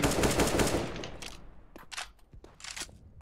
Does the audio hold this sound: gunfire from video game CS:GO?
yes